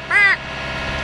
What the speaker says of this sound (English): And then we had an absolutely beautiful Bermuda Longtail playing around the top of the mast